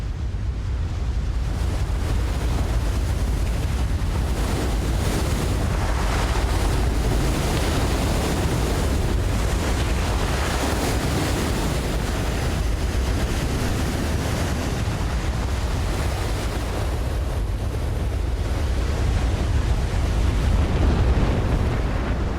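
Heavy surf roars continuously, big waves crashing and churning with a deep rumble and wind buffeting the microphone throughout.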